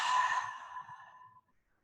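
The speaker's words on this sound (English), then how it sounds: "And then a breath out." A slow, breathy exhale during a yoga session, one soft airy breath out that starts close and clear and fades away after about a second and a half, leaving quiet.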